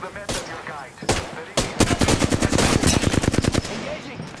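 Automatic gunfire in the Apex Legends video game: a few separate loud shots, then a fast rattling burst of many rounds close by, ending in quiet.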